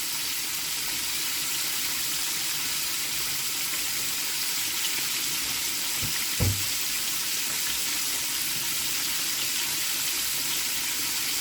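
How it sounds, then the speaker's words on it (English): Steady crackling sizzle of kingfish frying in hot oil, continuous and fairly close, with a brief clatter partway through. "So here we go, frying away."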